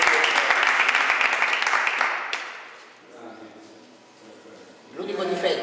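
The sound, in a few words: audience applause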